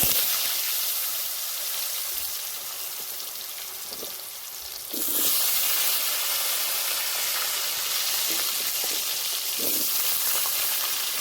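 Taro chunks drop into hot oil for a rohu fish curry, with whole cumin already in the pan. A loud, close sizzle jumps sharply midway and then holds steady, broken by faint clinks and stirring.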